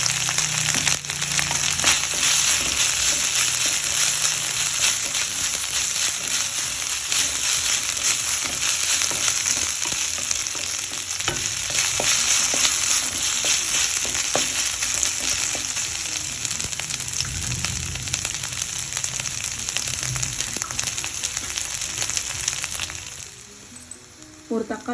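Mutton liver frying in a pan with green chili and tomato, a steady loud sizzle running throughout with occasional stirring scrapes, fading slightly at the end.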